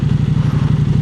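A KTM 890 Adventure motorcycle fitted with an aftermarket aero exhaust rumbles steadily and close, a throbbing low engine note with a rapid pulsing rhythm and no speech over it.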